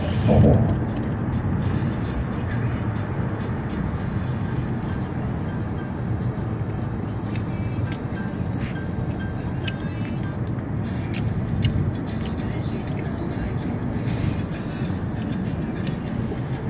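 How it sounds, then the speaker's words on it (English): Evening car traffic streams past in front, a continuous broad rumble and road roar that holds steady throughout with no distinct single pass-bys standing out. "So right now, we are experiencing car traffic in front."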